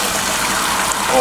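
Wild sumac juice pours through a strainer in a steady, loud, close gush of liquid that runs continuously without pause.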